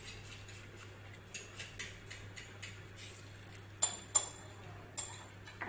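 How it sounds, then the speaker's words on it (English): Flapjack batter is stirred in a bowl, a spoon clicking and clinking against the sides in a quick, uneven rhythm, faint and close, with a low steady hum underneath. "let's keep stirring"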